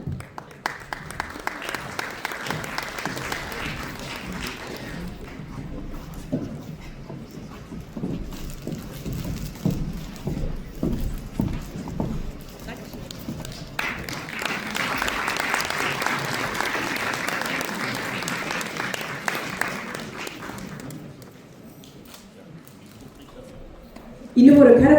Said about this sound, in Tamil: இன்னும் ஒரு கரகோஷம் எங்கே?